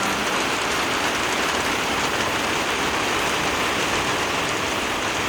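Steady, dense rain pours down outdoors on a cloudy day, a continuous close hiss of drops on surfaces that stays loud and even throughout, with no voices.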